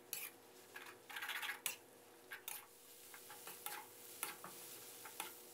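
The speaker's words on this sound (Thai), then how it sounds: "ผัดต่อจนเส้นหมี่ของเรามีความแห้งเลยนะครับ" Quiet scraping and clinking of a utensil stir-frying rice noodles with egg in a pan, with soft sizzling underneath, in irregular bursts.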